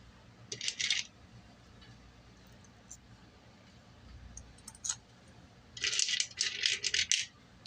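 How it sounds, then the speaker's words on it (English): Metal screws and clutch springs going into a 2006 Kawasaki KX250F motorcycle engine: bright metallic clinks and rattles in short bursts, a cluster early and a longer busy run near the end, over a quiet workshop background. "get our clutch springs back in on our screws, and tighten that down to torque"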